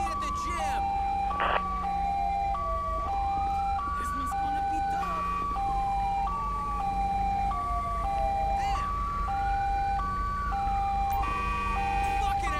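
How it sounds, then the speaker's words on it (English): Police siren in the video game Grand Theft Auto V, a wailing, cycling two-tone siren sweeping up and down continuously over about twelve seconds, steady and close, with brief voices beneath. "That's still my siren."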